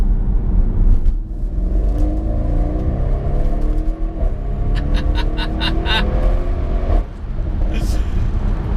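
An Audi RS6 Performance engine drones loudly throughout, rising and falling as the car accelerates, with a short gap and a few crackles, heard from inside while a person talks over it.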